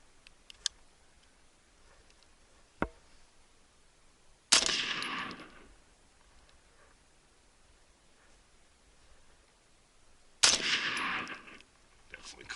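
5.56mm M855 rifle rounds are fired through brush outdoors, with sharp, loud cracks spaced several seconds apart, each trailing a brief rolling echo, and a few faint ticks in between.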